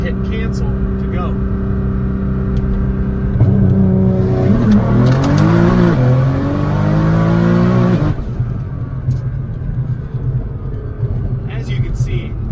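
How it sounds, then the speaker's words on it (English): A 1000HP Nissan GTR at full throttle, its engine droning steadily before surging into a loud rising rev as the turbos spool up, then dropping back to a lower rumble. "we're going to floor the gas to spool the turbos and then hit cancel to go"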